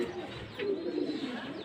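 Pigeons cooing in a soft, low, continuous murmur at close range, with a brief higher chirp partway through and no talking.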